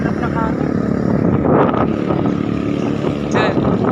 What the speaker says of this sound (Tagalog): Sobrang hirap na hangin.